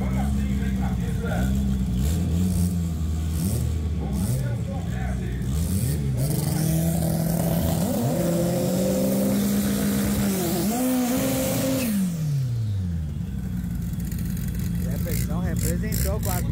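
A race car engine at the Velopark drag racing track, radial tire DTB class, rumbles and revs with rising and falling pitch, then drops low. Continuous announcer speech and crowd noise run over it.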